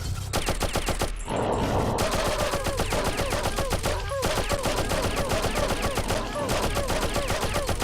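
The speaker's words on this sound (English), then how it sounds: "Let's shoot his mate." Rapid gunfire from the 1997 video game Oddworld: Abe's Oddysee, a dense run of shots rattling steadily over looping game music for several seconds, with brief pauses.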